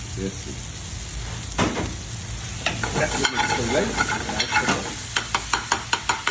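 Tomato chutney with green chili sizzles and fries in a pan, a steady bubbling hiss broken by stirring scrapes and clacks that grow more frequent and rhythmic toward the end.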